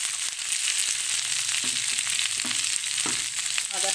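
Vegetables with ginger fry in a pan for a vegetarian spinach and lentil-dumpling curry, a steady sizzling hiss with a few scraping stirs toward the end and no talking.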